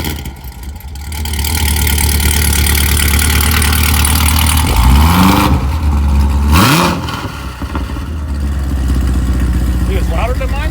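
A Chevrolet Corvette C7 Z06 V8 idles loudly close by, then revs sharply twice with rising and falling engine pitch before settling back to a deep idle, while people talk faintly in the background.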